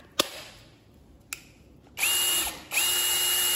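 A Dekton cordless three-function drill with 50 Nm torque and two speed settings runs in hammer mode: two sharp trigger clicks, then loud close bursts of whirring and hammering with a brief dip between them.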